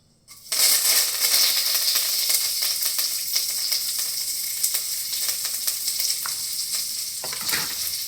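Cashews, coriander and curry leaves hit hot oil in a pan and sizzle loudly and steadily, starting abruptly and crackling close up throughout with occasional sharper pops and stirring scrapes.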